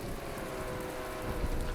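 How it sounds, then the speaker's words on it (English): Steady rain and drizzle in the video game From the Depths, an even hissing wash of falling drops with low rumbling underneath, quiet and continuous with no talking. "the constant rain and drizzle is getting on my nerves"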